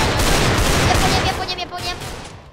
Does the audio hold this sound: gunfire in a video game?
yes